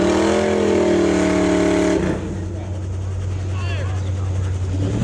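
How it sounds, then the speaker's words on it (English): A car idles and rumbles at a drag racing track, a steady low engine drone that drops in level after a loud first two seconds of harmonic engine roar, with faint background noise throughout. "Got a car on the track here"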